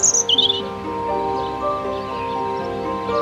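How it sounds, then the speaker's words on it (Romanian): A robin sings in a garden beside a marsh, a few quick high chirps up front followed by sustained tonal sounds underneath that may be music. "Ce pasăre este? Oh, acesta este Robin."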